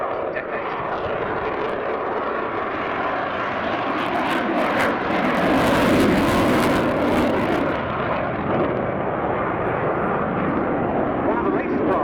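A Eurofighter Typhoon jet flies past at an RAF Cosford airshow, its roaring engine steady and loud throughout and swelling to a harsher peak midway, with a voice faintly beneath.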